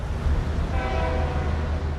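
A freight train rolls past near the Brumadinho mines in Brazil, a heavy low rumble with a sustained horn tone rising through the middle, loud and steady throughout.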